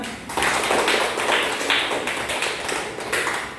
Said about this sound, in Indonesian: kita kasih tepuk tangan ya